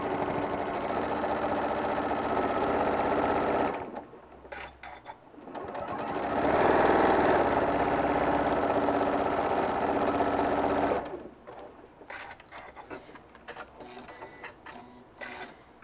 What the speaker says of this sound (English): now I'm just going to give it a back tack and just sew all the way